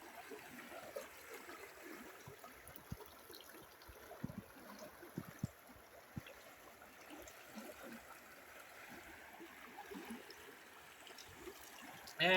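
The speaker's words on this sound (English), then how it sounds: "the river is full" A full riverside stream flows steadily throughout, a continuous wash of running water with small splashes and gurgles close by, and no talking.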